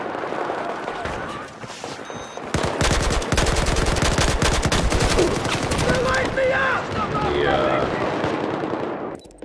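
Battlefield 4 multiplayer gunfire: loud, rapid automatic bursts rattle almost continuously for several seconds, with short gaps between volleys and faint background chatter.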